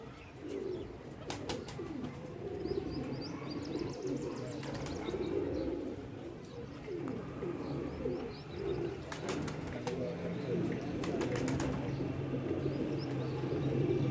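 Racing pigeons coo softly and steadily throughout on a rooftop, with occasional chirps and brief flutters over a light outdoor background.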